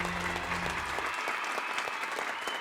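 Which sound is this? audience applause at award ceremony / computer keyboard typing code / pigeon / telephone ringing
audience applause at award ceremony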